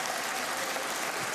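Steady applause from members of the Greek parliament, a dense, even patter of many hands clapping continuously for a brief moment with no voices over it.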